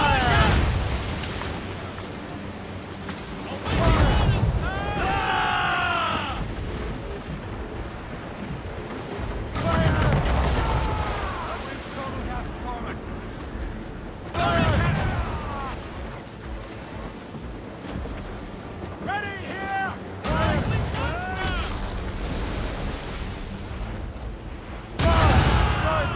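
Ship's cannons firing broadsides at sea in Assassin's Creed Rogue, booming volleys recurring every few seconds over wind and rushing water, with shouted crew orders between the blasts.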